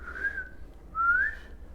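A voice imitates the whistling breath of an airway obstruction, giving two short, fairly loud whistle-like tones separated by a brief pause.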